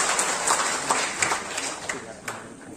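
An audience at a bridge competition event gives a short round of applause, dense clapping blended with crowd noise and some voices.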